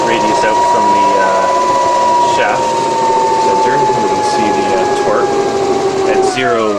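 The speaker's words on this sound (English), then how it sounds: "Get up to speed, and eventually we'll hit the point where the motor starts generating." An electric motor on an AC drive spins up on a test rig with a force gauge on its shaft, giving a steady loud whine that holds and slowly shifts pitch, with a voice talking over it throughout.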